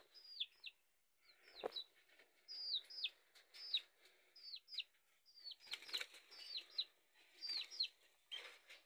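Parrots kept in a home, repeated sharp chirping calls with quick wing flutters scattered through, close and fairly faint against a quiet background.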